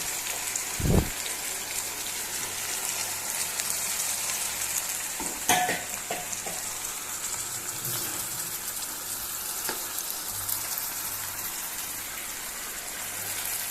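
Goan green chicken masala with tomatoes frying in a pan, a steady close hiss of oil crackling throughout, with a couple of brief clacks of a spoon against the pan and occasional stirring.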